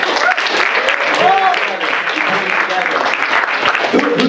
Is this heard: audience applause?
yes